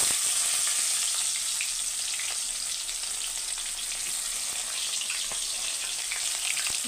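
Chopped onion frying in hot mustard oil in a wok for a chicken curry with potato and tomato, giving a loud, steady, close sizzle that continues unbroken with no talking.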